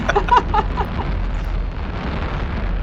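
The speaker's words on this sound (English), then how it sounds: "I wouldn't have thought of the fireworks" Fireworks bursting in the space game Eve Online, a cluster of sharp pops and booms up front that settles into a continuous crackling rumble, fairly loud throughout.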